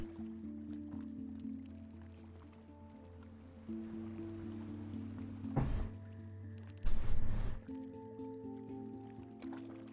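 Water is poured and then gulped in two short, close bursts over a steady, droning musical backdrop with no talking.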